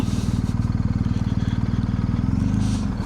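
A motorcycle engine runs steadily while riding on the road from Orkney to Shetland, its rapid pulsing drone loud and close for the whole stretch, with a slight rise in tone near the end.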